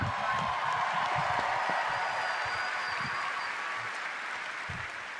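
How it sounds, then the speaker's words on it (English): Sustained applause from a large audience at Bethesda's E3 2019 press conference, steady and dense throughout, with a few cheers rising faintly above the clapping. "Another round of applause, please, from Marty Hugo and all of our presenters"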